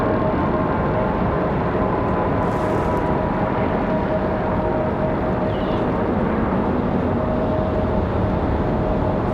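Southwest airliner departing from Raleigh Durham airport, a steady loud broadband jet roar that holds at constant level throughout, with no voices.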